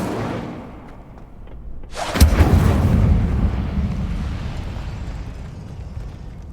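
An Incendio fire spell goes off in Hogwarts Legacy with a sudden loud burst, then a roaring, crackling rush of flame that slowly fades over several seconds after a quieter buildup.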